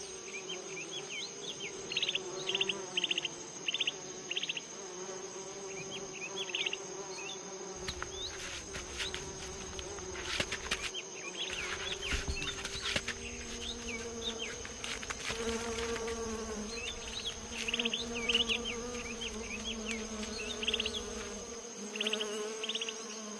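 Flies and other insects buzz around animals outdoors: a dense, continuous drone of wings with individual buzzes swelling nearer and fading, a thin steady whine throughout, and scattered faint chirps in the background.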